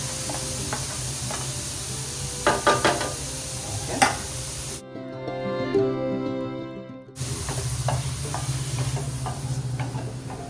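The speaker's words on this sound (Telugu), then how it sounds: "ఒక 2 minutes ఇలా కలుపుకుంటే పనీర్లో వాటర్ అంతా వచ్చేస్తుంది" Paneer cubes sizzle in a hot pan while being stirred, with soft scraping clicks over a steady frying hiss. The sizzle drops out briefly midway and then returns.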